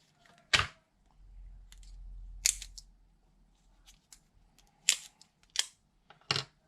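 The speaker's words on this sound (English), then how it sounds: "we want to take off the base plate first" Sharp plastic clicks and snaps come from the base plate being pried off an AAP-01 gas pistol magazine, several close separate clicks with a brief low rumble between them.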